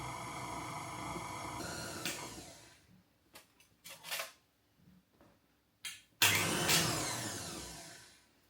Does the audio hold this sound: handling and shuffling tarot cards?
no